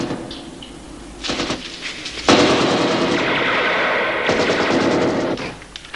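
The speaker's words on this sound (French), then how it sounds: "on reçoit des coups de feu à l'extrémité est de la prison" Bursts of gunfire at the east end of a prison, with a few sharp shots followed by a long, loud sustained volley, close and harsh, and no speech.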